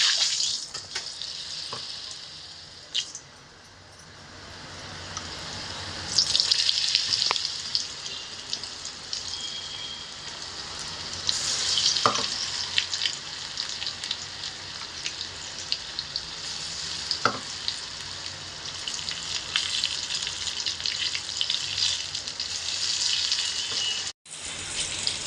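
Bhaji fritters deep frying in hot oil for a crispy finish give a steady, dense sizzle and bubbling that runs throughout, with a few faint clinks from stirring and no talk.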